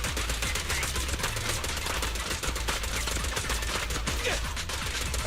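Dense, rapid video-game gunfire in Zenless Zone Zero, a continuous loud fusillade of crackling shots with no pauses across the whole stretch.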